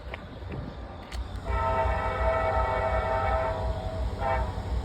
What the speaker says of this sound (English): I think it's a regular train.